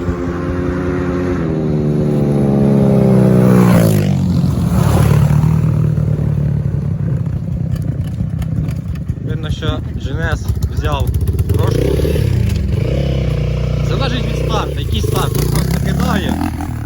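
KOVI and GNS 300 pit bikes race past on a dirt track, engines revving and rising in pitch as they approach and pass, loud and close, with a voice talking over the noise.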